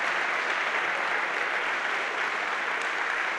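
A church congregation at an annual retreat gives loud, dense applause, a continuous wash of many hands clapping at once that holds steady throughout.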